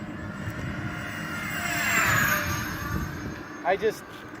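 A radio-controlled Airbus A320 model airliner, flaps retracted, makes a high-speed pass, its whining electric ducted-fan note swelling as it approaches and sweeping down in pitch as it passes, steady and fairly loud over a background of ambient noise.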